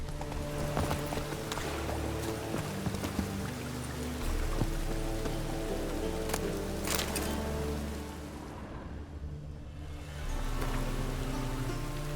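Rain falling in the video game The Witcher 3, a soft continuous patter beneath in-game ambience, with horse hoof clip-clops and a brief dip in the wash partway through.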